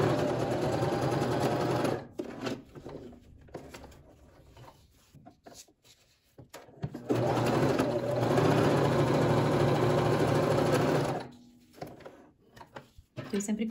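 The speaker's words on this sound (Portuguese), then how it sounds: "A primeira eu costuro ela toda." A sewing machine stitching fabric scrap strips together in alternating colors for a patchwork panel, running in two long loud bursts at close range, with quieter handling noises between them.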